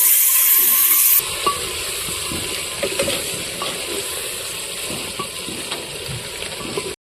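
Chicken meat sizzling in a cooking pot, a steady crackling fry with occasional spoon scrapes and clinks, preceded by a brief loud hiss as the meat goes in; no talk.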